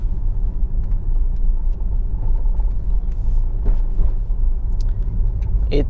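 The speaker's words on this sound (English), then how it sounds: "Let's see if the car stops there." Inside a car driving through a small intersection without stopping during a traffic-light and stop-sign driving test, a constant low road rumble fills the cabin, close and even, with faint ticks and thumps on top.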